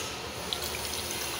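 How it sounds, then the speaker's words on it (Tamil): Water poured into a pot of Tamil pepper kulambu (milagu kulambu) with dal, a steady close, soft splashing trickle lasting about a second and a half with no talking. "இப்போ இன்னும் கொஞ்சம் தண்ணி ஊற்றிக்கலாம்."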